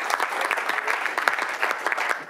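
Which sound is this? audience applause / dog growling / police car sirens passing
audience applause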